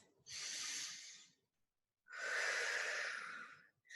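A deep breath drawn and released during a hip-focused flex fitness class, first a long airy inhale then after a short pause a louder, fuller exhale, close and unaccompanied by talk.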